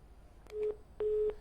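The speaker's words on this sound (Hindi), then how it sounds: "विक्रमजीत जी, चलिए फोन डिस्कनेक्ट कर दिया" A telephone busy tone sounds after a call is disconnected: two clean steady beeps, the second slightly longer, alone over a faint line hiss.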